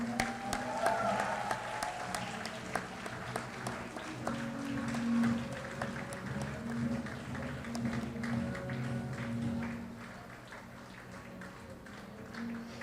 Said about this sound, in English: Let's encourage our youngest batch with a louder round of applause.